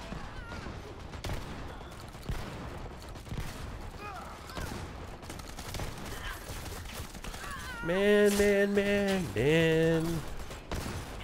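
Gunfire during a gunfight in the online shooter Dirty Bomb, a dense stream of short shots under ongoing game noise, with someone talking over it and tonal game sounds near the end.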